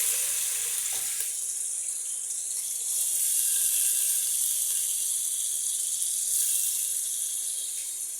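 Onions dropped into hot soybean oil for a chicken curry start a steady, hissing sizzle after a brief clatter, holding loud and continuous to the end with no talking.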